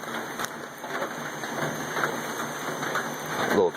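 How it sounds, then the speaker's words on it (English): Steady rain falls on a rural road at night, a dense even patter of drops close by with no voices, running on without a break. "The rain, it makes everything smell really good."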